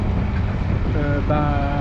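A sailboat motoring along the autumn coast toward La Rochelle, its engine a steady, close drone mixed with wind buffeting the microphone, while a voice speaks briefly toward the end.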